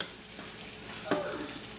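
Clams sizzle and fry steadily in hot oil for an eggplant clam curry, a continuous close crackle with a few louder spits and a sharp burst at the end.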